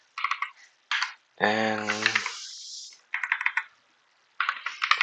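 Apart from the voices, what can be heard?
typing on a computer keyboard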